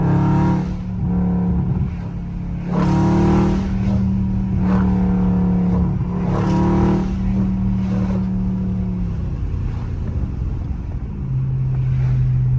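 A loud Dodge Scat Pack repeatedly downshifts and revs, its engine roaring up in several surges and falling back to a steady throaty drone, close and dominant with wind buffeting the microphone.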